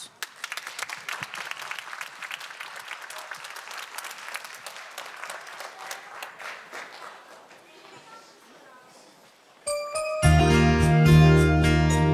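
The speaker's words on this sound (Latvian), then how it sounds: "Aplausus!" Concert audience at a New Year's show applauds a singer; steady crowd clapping lasts several seconds and tapers off, then a piano-backed Christmas song intro begins loudly.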